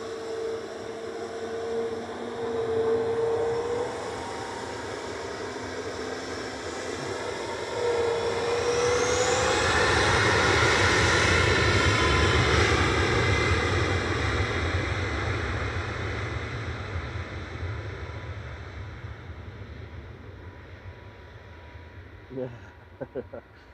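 A Boeing 737 MAX 8200 airliner at Manchester Airport, a broad jet roar that swells to a peak midway and then slowly fades, with a tonal engine whine in it and a brief gap without talk.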